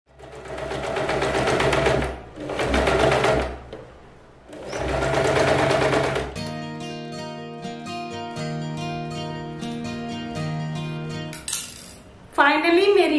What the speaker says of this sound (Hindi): मशीन के ऊपर हम स्टिचिंग लेंथ और कुछ पैटर्न सेलेक्ट कर लेंगे और सीधी से सिलाई लगा देंगे।